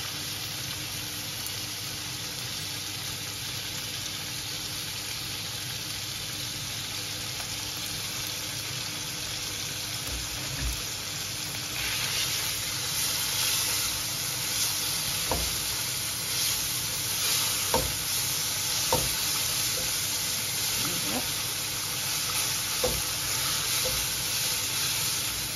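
Chopped pork sizzles and fries steadily in a pan for popiah filling, a continuous close hiss with occasional stirring clatters and scrapes growing busier in the second half.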